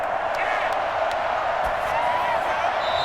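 Steady football stadium crowd roar in a Madden NFL Super Bowl simulation of Vikings vs Chiefs ahead of a big third down, a dense continuous wash of cheering with faint whoops, loud and unbroken throughout.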